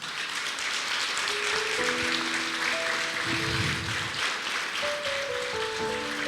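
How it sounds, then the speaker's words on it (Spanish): A church congregation applauds steadily throughout, a dense, even wash of clapping with sustained tonal music or voices running beneath it. "Dele el aplauso al Señor."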